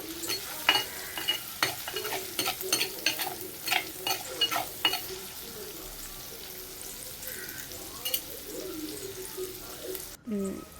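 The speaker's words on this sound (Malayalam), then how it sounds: "ഇങ്ങനെ സൈഡിൽ നിന്നൊക്കെ ഇങ്ങനെ ഇളക്കി അങ്ങനെ ഇട്ട് കൊടുക്കും." Ginger sizzling in oil in a pan while being stirred around the sides for a fish curry, with repeated scraping strokes and a steady frying hiss, no talk.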